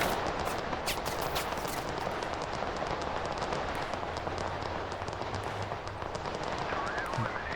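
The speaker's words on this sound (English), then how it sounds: "they're shooting at these guys" Gunfire in the video game Total Conflict: Resistance, a steady wash of distant shooting with scattered sharper shots over a constant battlefield rumble.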